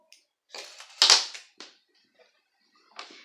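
Scissors cut yarn on an amigurumi Princess Aurora doll: a few short, crisp snips close by, one louder than the rest, separated by silence.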